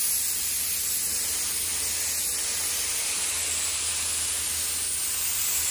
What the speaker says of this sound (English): now I'm putting the primer on really thick